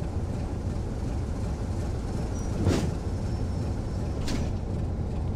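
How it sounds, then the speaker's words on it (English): A steam train in the Train Sim World West Somerset Railway game rumbles steadily at low volume, broken by two short bursts of hissing steam a couple of seconds apart. "Very steam train-esque sound, that, must say."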